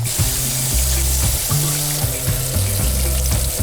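Leeks are rinsed under a running tap: a steady, loud rush of water splashing close by, continuous throughout with irregular gurgling shifts.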